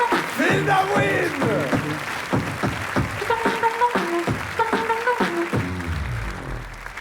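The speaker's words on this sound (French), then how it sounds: "applaudissez Phil Darwin!" Audience applause and cheering for comedian Phil Darwin at a Paris comedy show, partly buried under a loud, drawn-out shouting voice, fading slightly at the end.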